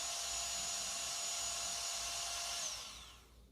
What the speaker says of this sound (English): So just keep on whisking, whisking, whisking, whisking.